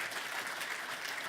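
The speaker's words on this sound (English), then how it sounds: "I'd just like a round of applause again for all of the young people here" Audience at an awards ceremony applauds in a continuous, even wash of clapping hands, fairly distant and steady throughout.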